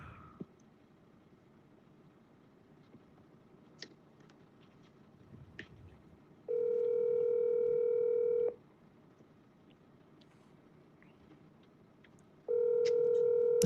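Telephone tones while placing a call: two long steady tone bursts of about two seconds each separated by quiet, with faint clicks and taps in between, no talking.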